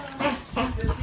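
Dogs bark and yelp in short bursts at close range, three quick outbursts in about a second, mixed in with a person greeting them.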